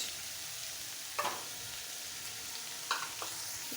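Snake gourd and salted hilsa fry in a pan with a loud, steady sizzle, broken by a couple of brief scraping stirs, close by and without any voices.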